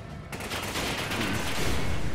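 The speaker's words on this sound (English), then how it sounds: "Got them shooting at me here" Sustained gunfire from a Resident Evil 5 co-op firefight, a dense rattling burst that kicks in abruptly and stays loud and continuous with no talking over it.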